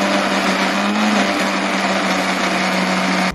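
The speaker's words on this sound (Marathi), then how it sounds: "बरं, टॅमॅटो वाटून घेऊया, त्याच्यातच टाकलेला आहे टॅमॅटो" A mixer grinder runs steadily, grinding tomato and onion masala for a fish curry with a loud, continuous high whine and no breaks, close by and without talk.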